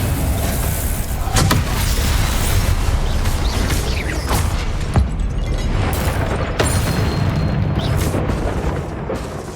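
Incendio and Confringo spell blasts in Hogwarts Legacy roar as a loud, continuous rumbling barrage, with repeated sharp impacts and whooshing bursts over deep low booms.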